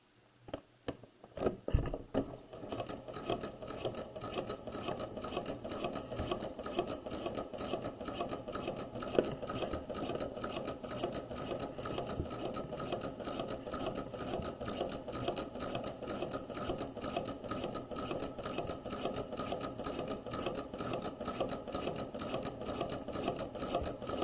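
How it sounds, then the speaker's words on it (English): A sewing machine stitches a row of basting stitch while setting a sleeve into a garment, running in one long, steady, rapid mechanical chatter after a few brief starting clicks, close and alone. "we're going to do a second row of basting stitch"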